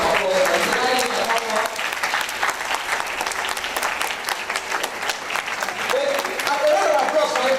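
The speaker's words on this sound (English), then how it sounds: "a round of applause for him, please" Loud, sustained crowd applause at an official launch ceremony in Nigeria, many hands clapping densely and evenly throughout, with voices and murmuring audible beneath the clapping.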